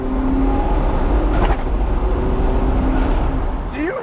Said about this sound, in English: I've never heard a shotgun crack like that from a shifter